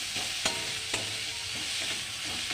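Fish coated in cumin paste frying in a pan over low heat, a gentle hissing sizzle with two soft knocks of a spatula and quiet stirring scrapes.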